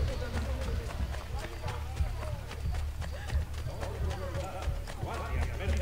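Galloping hooves of a horse in the video game Assassin's Creed Brotherhood, a steady, fast clip-clop rhythm that keeps going over busy game ambience, with a voice in the background.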